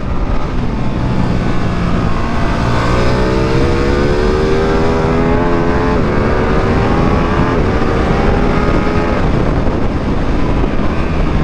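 A 2022 Ducati Streetfighter V2 motorcycle accelerating hard on a race track out of a corner, its engine note rising steadily through the revs, loud and continuous with wind roar throughout.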